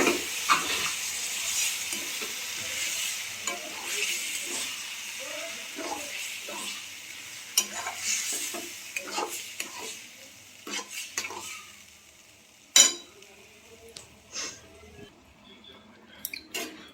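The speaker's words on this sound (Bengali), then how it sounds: "ডালিয়াটা আমি সাথে মিশিয়ে দিচ্ছি" Dalia is stirred into pumpkin and potatoes frying in a pan, with a soft steady sizzle under irregular scraping and clinks of a spoon against the pan, plus a sharper knock near the end.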